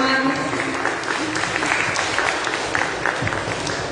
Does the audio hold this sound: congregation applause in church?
yes